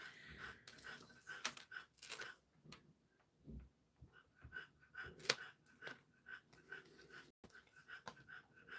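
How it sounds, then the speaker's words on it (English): A dog lying under a chair pants softly nearby in quick, uneven bursts of breath, with faint ticking and small shuffling sounds in a quiet room. "You might hear Odin panting underneath my chair tonight"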